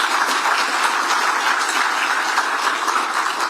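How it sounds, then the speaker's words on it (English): Sustained audience applause at a Salt Lake City–Utah 2034 Olympic Games announcement event, steady dense clapping from a crowd throughout, fairly loud and even with no pauses. "we'll give you a round of applause as well for your efforts."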